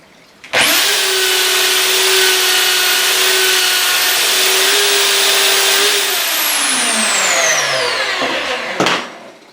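A chisel is sharpened on a drill-driven, water-cooled whetstone sharpener. A loud, steady whine and grinding starts abruptly, holds for several seconds, then winds down as the drill slows, ending with a short clunk.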